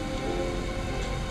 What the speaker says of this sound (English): The rain came in rapidly and intensely.